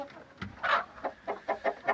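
A breeding Aseel rooster and hen cluck close by: one louder call, then a quick rhythmic run of five or six short clucks.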